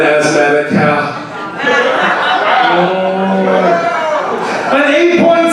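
At a poetry slam in Dayton, Ohio, audience members imitate an asthmatic cow, wheezy moo-like groans rising from the crowd amid chuckles, with an emcee speaking over them.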